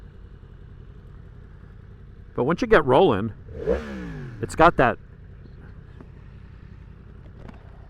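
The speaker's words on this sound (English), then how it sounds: "See, I like that exhaust note. Once you get on the gas, at idle, it does sound like a sewing machine." Yamaha MT-10 with the cross-plane crank engine from the R1, its exhaust rising in a couple of short revving bursts and settling back toward a quiet idle, with a rider talking over and between the pulls.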